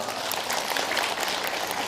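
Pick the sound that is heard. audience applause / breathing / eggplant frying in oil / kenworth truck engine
audience applause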